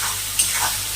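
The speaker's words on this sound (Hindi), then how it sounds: "अब इसे डाल के भूनेंगे बस सॉफ्ट होने तक।" Vegetables for chow manchurian fry in a pan with a soft, steady sizzle, broken by one brief stir or scrape partway through; no voices.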